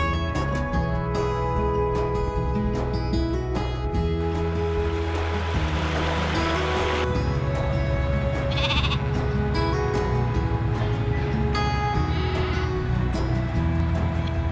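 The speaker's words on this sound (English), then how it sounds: "On our way, we encounter playful lambs" Lambs in a field on Islay bleat repeatedly, their wavering, nasal cries standing out clearly and fairly close over a steady outdoor background with a low hum.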